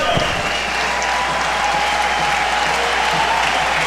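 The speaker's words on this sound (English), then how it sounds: "also gets a nice ovation from the crowd here at Stade Saputo." Stadium crowd at Stade Saputo during a Montreal vs NY Red Bulls soccer match breaks into a sustained, loud ovation of dense applause and cheering, with a commentator's voice over it.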